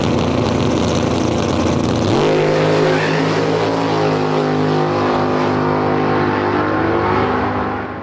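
A drag racing car, driven by CJ on a second-round pass, launches and accelerates hard down the track, its engine roaring loud and close before rising in pitch and fading slightly as it pulls away.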